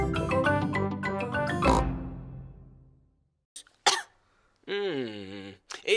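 A cartoon pig character coughs a few short, bursty times after a stretch of music, with a brief voiced snort-like sound near the end.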